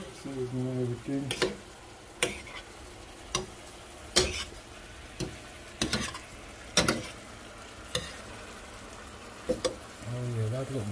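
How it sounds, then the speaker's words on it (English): Ackee being stirred with salt and seasoning in a pot: soft sizzling under irregular scraping and clacking spoon strokes against the pot, close, with brief talk at the start and end. "So you mix up your Ackee with your salt and everything."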